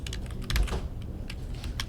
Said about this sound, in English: Just start typing Conserve Energy at Home.